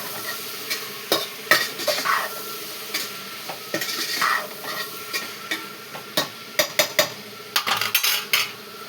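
A potato fry sizzles in a pan while a utensil stirs and scrapes it, giving repeated sharp metallic clinks and scrapes over a steady frying hiss, close and fairly loud with no talking.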